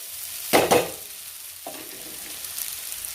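Radish masala for pulao frying in a pan, with a loud burst of sizzling and stirring early on, then a second brief sizzle that fades to a soft, steady crackle.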